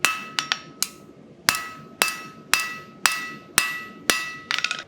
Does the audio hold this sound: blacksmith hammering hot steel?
yes